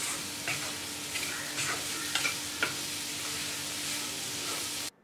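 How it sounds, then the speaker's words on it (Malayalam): Chopped cabbage sautés in a hot pan with a steady, bright sizzle while a spoon stirs it, leaving several light scrapes and taps before the sound cuts off abruptly at the end. "കേബേജ് ചേർത്തതിന് ശേഷം സ്പൂൺ കൊണ്ട് 2-3 മിനിറ്റ് നന്നായിട്ട് വഴറ്റി കൊടുക്കണം."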